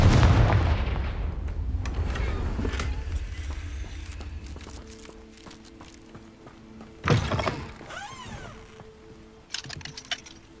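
Confringo fire spell blasts in the video game Hogwarts Legacy: a heavy boom up front, then quieter game effects and two more sharp explosive bursts later, no speech.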